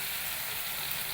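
Chicken pieces fry in hot oil in a wok, giving a steady, even sizzling hiss that holds without a break for the whole moment.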